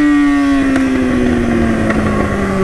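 An old Honda Titan motorcycle engine idles and hums close by, a loud, steady droning tone with a slowly falling pitch and faint rhythmic ticks.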